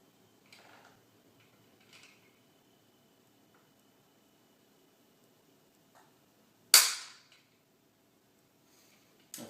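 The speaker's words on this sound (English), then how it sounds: "sometimes when you shoot, you can hear that pin fall. It's so loud." Firing pin falling in an X-Mark Pro rifle trigger: faint clicks, then one loud, sharp metallic snap with a short decaying ring, followed by another click at the end, close and otherwise quiet.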